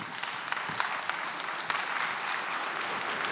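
An academic audience at a university talk on students navigating doubt breaks into sustained applause, a dense steady patter of many hands clapping at even volume from start to finish, with no talk over it.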